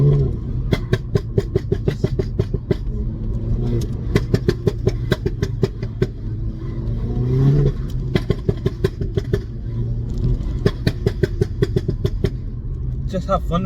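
A Stage 1 tuned Volkswagen Golf Mk7 GTI making 320 bhp revs and accelerates close by, with repeated throttle blips, a rising engine note and sharp crackles between pulls, over a constant low rumble.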